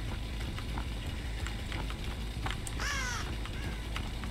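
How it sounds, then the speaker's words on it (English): Crows caw in the Dead by Daylight cornfield, a few scattered calls over a steady, loud background rumble, with one harsher, louder squawk in the middle. "I see crows"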